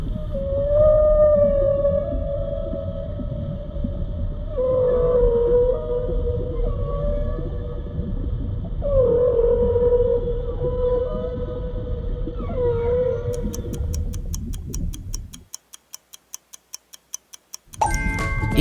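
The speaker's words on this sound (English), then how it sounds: "It's a whale." Whale vocalizations from the ocean, long wavering moans and tonal calls repeating every few seconds, loud and sustained, then a pause before a brief tonal burst at the end.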